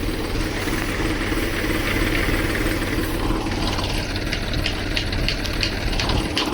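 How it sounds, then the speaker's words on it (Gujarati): A tractor engine runs steadily at a constant loud drone, idling without change and with no voices. "ટ્રેક્ટર ચાલુ પડ્યો"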